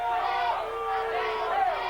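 Crowd at a high school football game between T.L. Hanna and Pickens reacting to a referee's call, a moderate, sustained mix of cheering and shouting with voices rising and falling.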